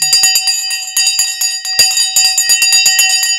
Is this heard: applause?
no